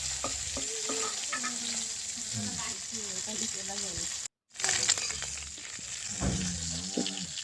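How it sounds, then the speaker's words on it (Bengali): Small puti fish sizzle in mustard oil in a wok, a steady close frying hiss with clinks and scrapes as the fish are stirred and turned. A brief dropout breaks it midway, and a faint voice sits underneath. "অল্প করে পুঁটি মাছ আমি কড়াইতে দিয়ে দিলাম একটা সাইড আমার হয়ে গেছে এবার আমি উল্টে দিচ্ছি"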